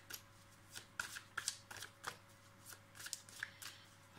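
Dixit game cards being shuffled by hand, a close series of crisp riffling and snapping bursts in a steady uneven rhythm, with no voices.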